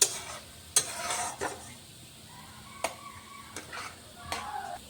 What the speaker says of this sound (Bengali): আমি অনেকটা সময় এটা নাড়াচাড়া করবো